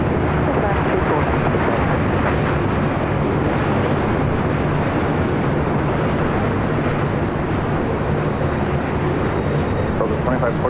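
A heavy Boeing 787 Dreamliner jet on short final to runway 24 left at LAX makes a loud, steady broadband roar that holds unbroken for the full stretch.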